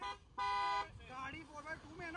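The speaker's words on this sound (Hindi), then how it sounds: "जब तीसरी बार हॉर्न बजाएंगे फिर" A car horn gives a short, clear toot, likely from a Mahindra Scorpio N, Scorpio S11 or Toyota Fortuner being compared, followed by people talking nearby.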